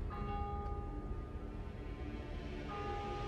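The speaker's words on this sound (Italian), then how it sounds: "C'è la campana della chiesa che suona ogni mezz'ora." A church bell rings at night beside a parked camper van, a sustained tone that fades slowly beneath a steady low background hum.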